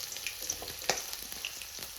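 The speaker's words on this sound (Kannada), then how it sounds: "ನೆಕ್ಸ್ಟ್ ಒಗ್ಗರಣೆ ಹಾಕೊಳ್ಳೋಣ" Cumin and mustard seeds tempering in hot oil, a steady close-up crackle and sizzle with small pops and one sharper spit, alone without talk.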